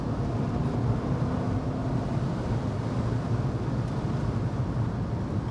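A BMW Z3 sports car drives at speed, producing a steady, dense rumble of engine and road noise that holds evenly loud without clear gear changes or pauses.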